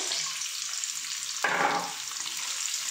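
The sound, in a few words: potatoes frying in oil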